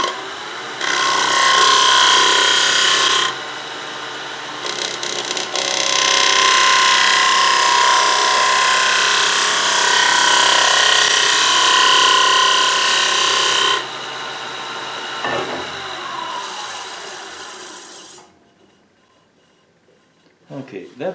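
A wooden dinner plate spins on a lathe as a cutting tool works across it, producing loud, sustained scraping and whirring in long bursts with pauses between cuts, before the lathe winds down at the end.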